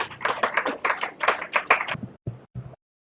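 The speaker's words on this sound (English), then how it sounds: "the parents can might as well applaud the new committee that comes along" Parents at a PTA function at a higher secondary school applaud the new PTA executive committee: a dense, rhythmic burst of clapping for about two seconds, then two short, separate spatters of claps before it stops.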